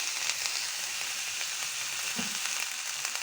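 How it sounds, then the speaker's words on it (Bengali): Onion and garlic frying in mustard oil give a steady, close sizzle with a dense crackle throughout and no voices. "এখন পেঁয়াজটা আমি তেলের মধ্যে ভেজে নেব, পেঁয়াজ আর রসুনটা।"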